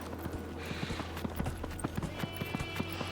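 Horse hooves clip-clopping at a steady walking rhythm in the video game Dragon Age: Inquisition, a quick series of crisp, evenly spaced hoof strikes over a low ambient hum, fairly quiet.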